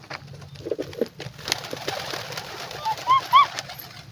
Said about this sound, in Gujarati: આપણે અહીંયા કબૂતરને ખોખા ખવાડીએ